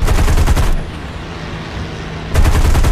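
Bursts of rapid machine gun fire in War Thunder open and close the clip, loud and dense, with a quieter stretch of low rumble in between.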